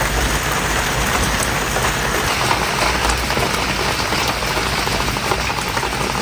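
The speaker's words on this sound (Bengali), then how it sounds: "এই যে আবার ঝুম বৃষ্টি শুরু হয়ে গেছে।" Heavy rain falls in a loud, unbroken wash of drops drumming on nearby surfaces, steady and close throughout, with no one speaking.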